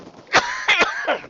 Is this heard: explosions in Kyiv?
no